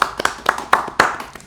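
Sharp hand claps at an irregular pace, roughly eight of them in a second and a half, loud and close with no voices.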